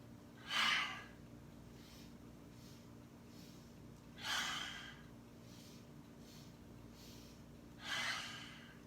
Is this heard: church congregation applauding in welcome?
no